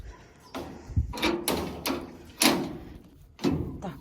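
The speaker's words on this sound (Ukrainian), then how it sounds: "Клітку закриваю, бо інакше мені зараз вискочить якесь" A rabbit cage door is handled and shut in a sequence of close metallic clanks and rattles, about half a dozen knocks of varying strength in an irregular rhythm.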